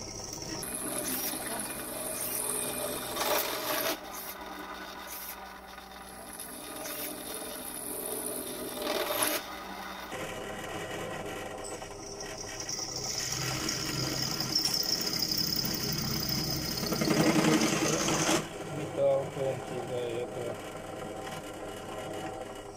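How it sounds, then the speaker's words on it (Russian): A steady mechanical drone of a drill press running an HSS-G metal bit with light pressure, boring into metal, with shifts in pitch and load partway through, fairly quiet throughout. "начинаем сверлить, слишком давить не будем"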